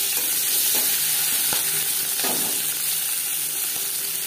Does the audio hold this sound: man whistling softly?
no